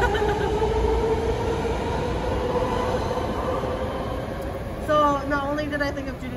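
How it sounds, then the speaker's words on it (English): A train passes near the site of the former Tanforan assembly center, a loud continuous rumble with squealing wheels and rising whistle-like tones, while a person talks faintly nearby. "So I'm gonna wait for the train."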